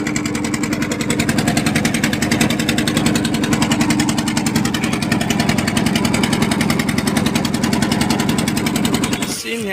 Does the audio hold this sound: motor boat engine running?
yes